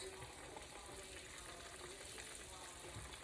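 Pork chops fry in a skillet with a soft, continuous sizzle, quiet and steady throughout, with no talking.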